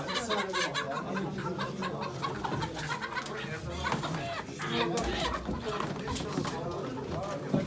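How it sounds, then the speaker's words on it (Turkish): Roosters and hens at a poultry auction in Ankara give repeated crows and clucks amid a dense, noisy crowd, with people talking throughout. "Altın zıdıkların hepsi horoz."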